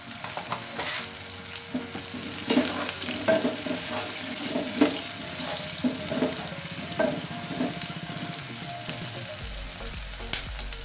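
Onions frying in a pot for pilau ya mbuzi, with steady crackling sizzle and repeated scraping stir strokes throughout, close and continuous.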